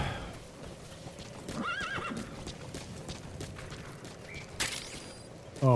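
D-Horse in the video game Metal Gear Solid V whinnies in a short shrill neigh, with hoofbeats clopping and faint game sounds around it.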